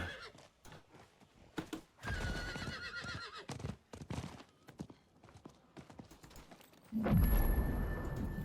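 A horse whinnies loudly near the middle in the video game Diablo 4, with clip-clopping hooves and rustling movement around it, then a deeper snort and heavier hoofbeats toward the end.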